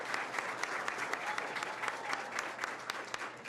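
A crowd claps steadily in an even, sustained round of applause at the U.S. embassy in Havana, moderately distant, with no voices.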